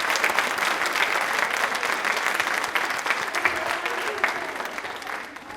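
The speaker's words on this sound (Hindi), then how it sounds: "पीटी उषा जी के लिए तालियां जोरों से होनी चाहिए प्लीज" Sustained applause from a studio audience at a televised quiz show, steady dense clapping throughout that eases slightly near the end.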